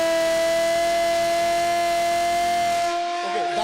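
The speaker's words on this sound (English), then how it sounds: "that's the siren, that's the alert by the civil defense" A civil defense alert siren holds a loud, steady wailing tone for about three seconds, then fades off, heard nearby and clear with no talk over it.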